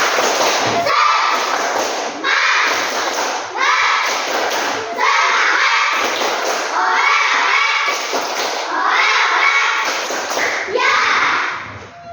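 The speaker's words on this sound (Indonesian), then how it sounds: "Mari kita untuk bertepuk semangat dulu." A classroom of children performs a spirited rhythmic clap, repeated bursts of loud, tightly patterned clapping and thumps in cycles of roughly two seconds, with young voices mixed in throughout.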